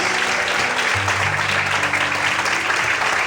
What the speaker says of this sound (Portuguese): Todos podem aplaudir e exaltar o Senhor por isso.